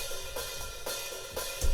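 Hi-hat cymbal drum track heard unprocessed, a dense wash of bright hiss with regular accented hits roughly every half second, loud and alone.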